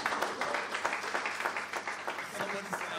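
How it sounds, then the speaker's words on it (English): Audience applause at a business and career summit assembly: dense, sustained clapping from a crowd that holds steady throughout, with voices mixed into the noise. "one more round of applause for me"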